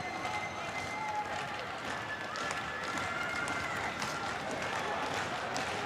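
A crowd at a 2006 Commonwealth Games boxing bout in Melbourne cheers on the fighter Fletcher, a continuous roar of voices and scattered claps with a commentator talking over it.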